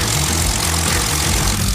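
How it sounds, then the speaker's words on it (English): A propeller warplane engine from World of Warplanes drones steadily at a low, rumbling pitch, loud and close, holding an even idle-like tone throughout with no voices. "The Wargaming sound engineers record the now unique sounds of the planes using numerous microphones and several recording tracks at once."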